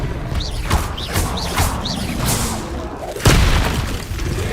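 Repeated Expelliarmus spell casts during combat in Hogwarts Legacy: a rapid series of sharp zapping whooshes and cracks, ending in a heavy booming impact, loud and close with no talk.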